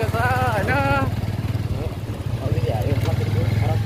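A motorcycle ridden along a muddy road gives a steady low engine drone throughout, running under continuous close speech.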